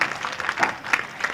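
An audience at a Hindi poetry gathering claps in short scattered bursts, a light, thin patter that swells and fades several times across the moment, fairly faint.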